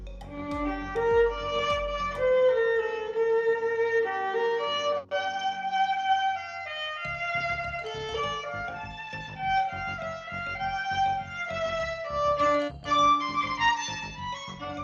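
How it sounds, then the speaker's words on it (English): A violin plays a flowing, expressive melody with sustained bowed notes and gliding pitches, accompanied by soft backing, clear and up close. "That was from the beautiful violin."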